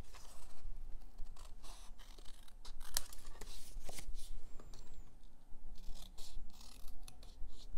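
Scissors snip through paper while cutting along a line for a mini paper luminaria, a close series of quick crisp cuts and rustles of the sheet, with no talking.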